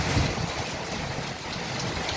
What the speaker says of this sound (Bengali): এখানে প্রচণ্ড পরিমাণ বৃষ্টি এবং রস হাতে বজ্রপাত